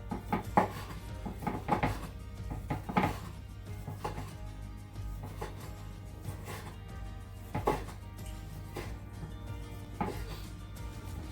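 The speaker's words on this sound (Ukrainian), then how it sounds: "Нарізаю всі огірочки і висипаю їх в мисочку, в якій я буду вимішувати салат." Knife chopping cucumbers into thin strips on a board for a chicken gizzard salad, with a steady run of sharp, close taps repeating in short bursts over a low, constant background hum.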